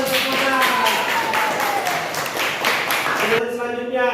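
Classroom applause for a student named Fauzan, brisk clapping from a group of students that runs steadily and then tapers off, with voices audible in the room.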